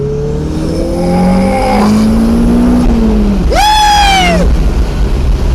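A Toyota MR2 with motor mount inserts accelerates hard under turbo boost, its engine note climbing loud and close through the gears with a sharp rising pitch after a shift.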